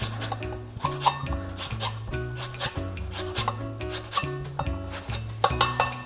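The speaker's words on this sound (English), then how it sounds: "I'm gonna use some lemon zest" A lemon is zested for a vegan lasagne, with short rhythmic rasping strokes against the grater under steady background music.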